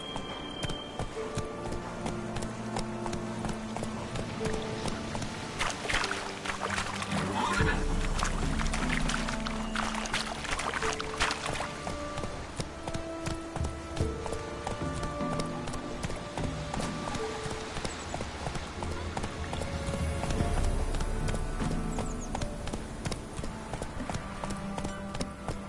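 Hooves clop steadily as a horse gallops in a video game, a rhythmic drumming heard throughout under layered music and game ambience.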